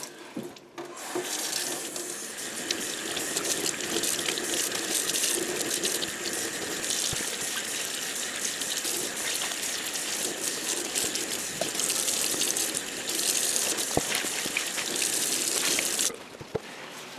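Water runs steadily from a tap to rinse dye out of an ice-dyed tie-dye shirt, a continuous close gushing splash that lasts the whole time and cuts off near the end.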